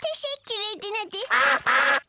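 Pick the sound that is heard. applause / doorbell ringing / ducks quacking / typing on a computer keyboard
ducks quacking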